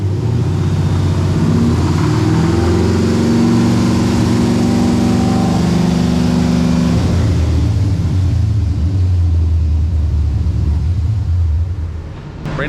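A 5.3-litre V8 swapped into a Camaro SS idles under light load on a dyno, a steady loud low rumble that drops in pitch partway through and holds, with no talk.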